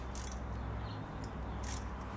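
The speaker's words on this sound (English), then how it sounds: "I've got a small 90 degree ratchet here." A small 90 degree ratchet turning a screw while replacing the speed control on a Wen lathe, giving a few faint, short clicking bursts over a low background hum.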